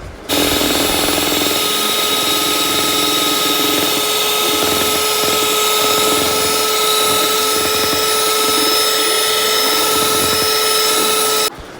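An electric mixer beats egg whites from four eggs for a birthday cake, giving a loud, steady motor whine that starts abruptly, holds constant for about eleven seconds and then cuts off.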